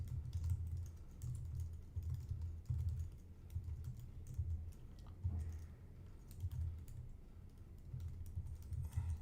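Steady, rapid typing on a computer keyboard while entering git commands, keystrokes clattering close and continuously with no talk.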